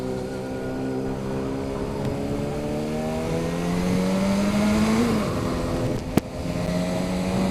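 A Kawasaki Zephyr 550 motorcycle engine runs close by with a steady droning tone that climbs in pitch as it revs up, briefly drops, then settles; a sharp click near the end.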